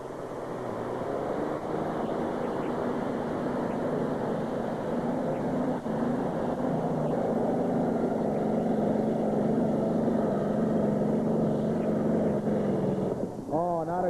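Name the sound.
pulling tractor engine roaring at tractor pull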